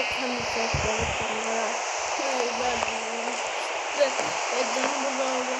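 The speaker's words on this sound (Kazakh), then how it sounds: "Жаңбыр жауып жатыр ғой" Rain falls in a steady, broad hiss that fills the whole stretch, close and even, with occasional louder drops and a low hum beneath.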